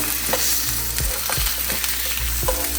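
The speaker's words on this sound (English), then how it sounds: "I'll go ahead and give these steaks a flip" Steaks frying in a hot pan with a steady, loud sizzle, interrupted by a few soft thumps and scrapes as the meat is flipped.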